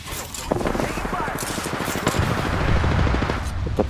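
Rapid automatic gunfire from Apex Legends, a dense stream of loud, close bursts that runs almost unbroken through the clip and grows heavier toward the end, with a voice briefly talking over it.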